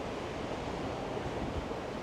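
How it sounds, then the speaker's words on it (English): Water rushes steadily past the hull of a cruise ship underway at about 12 to 15 knots, a continuous broadband wash mixed with wind noise and no voices. "This is the water while you are underway."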